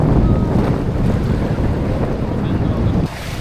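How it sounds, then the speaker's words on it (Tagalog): Strong wind buffets the microphone at a beach with a loud, continuous roar, over the faint wash of waves, then drops off abruptly at the end. "Sobrang hangin pa."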